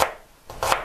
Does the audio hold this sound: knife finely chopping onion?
yes